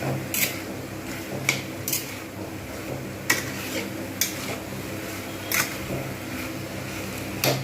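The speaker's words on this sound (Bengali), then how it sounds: "আমি এটা কন্টিনিউ একটু ভালো করে নেড়ে নেবো" A spatula scrapes and clinks against a pan as poppy seed paste fries for a Bengali potato and pointed gourd dish, with sharp periodic knocks over a soft steady background, no voices.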